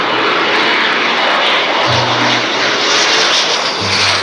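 Continuous roaring toy jet airplane engine drone, loud and steady throughout, with a faint low hum rising and falling beneath it.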